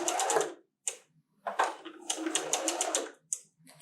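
Sewing machine back stitching a quilted table runner, fast close mechanical stitching in short bursts separated by brief pauses, with no talk.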